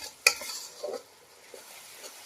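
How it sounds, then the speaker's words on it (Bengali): Masala spice paste with sugar being sautéed and stirred in a pan, with one sharp utensil scrape followed by quiet, intermittent stirring scuffs and a faint sizzle. "মশলাটাকে কিছুক্ষণ কষিয়ে নেব"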